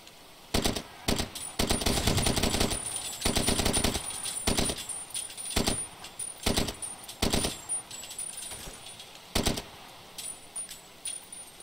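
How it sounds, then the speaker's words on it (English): Enemy gunfire in the Far Cry 2 video game: loud bursts of automatic and single shots in irregular clusters, close and dominant, with brief gaps between volleys. "there are other people shooting at me"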